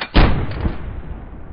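A single heavy boom of artillery or gunfire in the World War II shooter game Hell Let Loose, sharp and close, trailing off into a rumbling decay.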